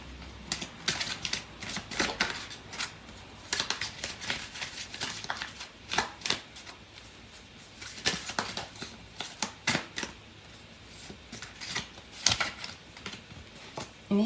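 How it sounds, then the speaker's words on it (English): Tarot cards being shuffled and pulled from a deck, a rapid run of crisp papery riffles and snaps in irregular bursts, close and clear with no talking. "So I am going to pull out some cards from the other deck."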